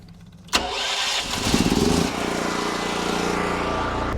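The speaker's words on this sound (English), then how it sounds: "now we're ready to crank up the generator and start making hose" A generator engine on a drill rig cranks and catches with a sharp start, briefly revs rough and loud, then settles into a steady close idle.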